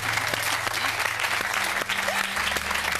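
Studio audience applause on a television game show, dense continuous clapping from a crowd, loud and steady throughout with no talk over it.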